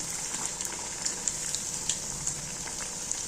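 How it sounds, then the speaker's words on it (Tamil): Banana flower vadai deep-frying in a pan of hot oil give off a steady, soft hiss with small crackling pops, fairly quiet and with no voices. "மூணு வடை சுட்டு போட்டிருக்கேன், தட்டி போட்டிருக்கேன்."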